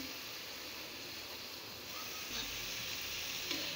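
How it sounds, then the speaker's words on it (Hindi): Onions frying in a pan on the stove give off a steady, soft sizzle that continues throughout, faint and close with no talking. "प्याज जो है अच्छे से फ्राई हो रही है"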